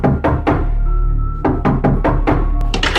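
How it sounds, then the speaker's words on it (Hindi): Loud, heavy knocks on a door, a few spaced thuds followed by a quicker cluster of raps, close and booming with a steady low rumble behind. "बाहर दरवाजे पर हो रही थी दस्तक।"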